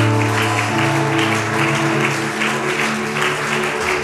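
A church congregation applauds loudly and continuously, with sustained music playing underneath the clapping.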